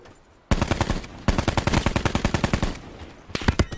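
Rapid automatic gunfire in Call of Duty Blackout, loud close bursts of shots in quick rhythmic strings with a brief pause, then another burst near the end.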